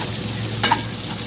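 A spoon gives one quick scrape through poha with red-fried onions and turmeric in a pan, the short stroke standing out over a faint, steady sizzle.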